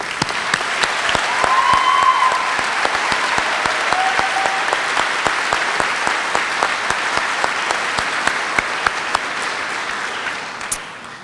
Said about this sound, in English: Please stand and let us applaud you.